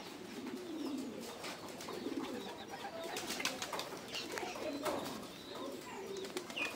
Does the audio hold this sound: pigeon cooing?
yes